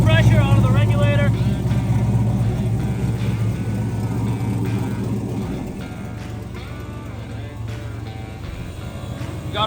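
A boosted turbocharged 6.0 engine runs in a 1984 S10 pickup with welded pipes and a possible gasket leak, holding a loud, steady rumbling idle throughout, with a voice talking over it.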